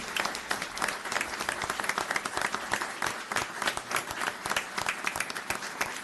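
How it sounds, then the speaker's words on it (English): Audience applause at a town board meeting honoring a police officer, a dense, sustained round of clapping from a room full of people, held at a steady level. "please give Officer Cora a nice round of applause"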